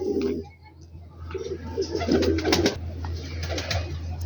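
Pigeons cooing at their evening roost in Rawalpindi, soft repeated coos up close against a steady low hum, with a few chirps and rustles and a faint voice in the background.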